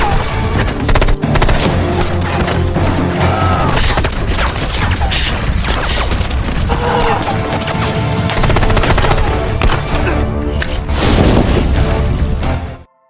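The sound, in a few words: gunfire in a film battle between police and gang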